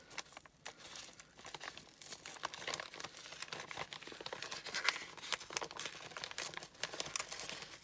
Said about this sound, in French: Donc là, je vais ouvrir l'enveloppe.